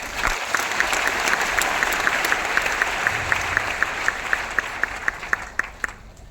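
An audience claps through a sustained round of applause, starting as a dense crowd patter, then settling into steady rhythmic, in-unison claps that grow sharper toward the end.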